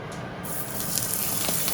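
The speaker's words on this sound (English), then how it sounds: "what I'm going to do is just a little bit of salt and pepper into a nice hot pan" Chicken seasoned with salt and pepper sizzles steadily in a hot pan, a loud, even hiss with faint crackles and no talking.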